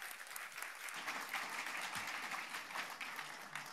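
Steady applause from a conference audience honouring a contributor to a corporate social responsibility observatory, a dense continuous clatter of many hands at moderate distance with no voices over it.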